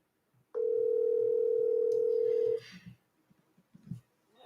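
A single steady phone tone sounds for about two seconds, clear and fairly loud, then stops, leaving faint background knocks and handling noise.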